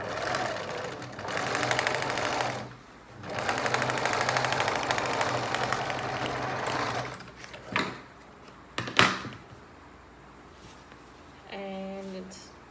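A sewing machine stitches a pencil case or small pouch in two long, steady whirring bursts, each lasting a few seconds, followed by short clicks and handling noises as the fabric is adjusted.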